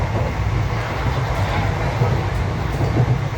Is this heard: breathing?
no